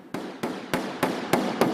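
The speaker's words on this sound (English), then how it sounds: "A light planishing tap with the shrinking hammer pulls the low spot flush against the back-end backing block." A shrinking hammer gives six light, evenly spaced planishing taps to an aluminium skin panel of a 1953 F-86 Sabre held against a backing block, each strike sharp and ringing with a short metallic decay.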